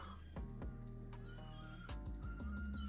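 Fowl calls from outdoors, clucking and crowing-like cries in short bursts over a steady low background hum, moderately faint and heard alone without talk.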